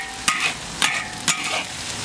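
Ginger and garlic stir-fry in rendered pork fat, a loud continuous sizzle cut by three crisp scraping strokes of a spatula against the wok.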